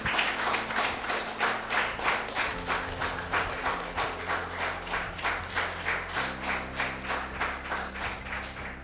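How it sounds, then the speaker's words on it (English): Audience members at a village photography contest prize-giving clap for the winners in a steady rhythmic unison beat, about three claps per second, over sustained music tones. "give them a big round of applause"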